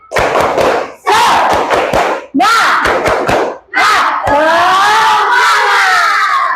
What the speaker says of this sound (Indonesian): Tepuk semangat dulu supaya lebih semangat.